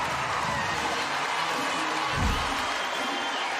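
Sustained roar of a crowd at a girls' high school Class 3A state basketball championship, a broad continuous wash of cheering with a brief louder swell near the end.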